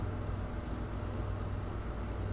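A heavy truck in American Truck Simulator pulling uphill at 41,000 pounds: a quiet, steady, low engine drone with a faint pulsing rhythm, alone.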